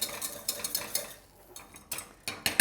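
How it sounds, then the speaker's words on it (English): A spoon stirs hot, simmering vegan coconut cream caramel in a pot, making quiet rhythmic scraping strokes against the pan, a pause in the middle, then a few faster scrapes. "Give it a stir."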